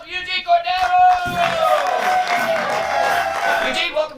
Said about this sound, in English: Give a warm round of applause for Eugene Cordero!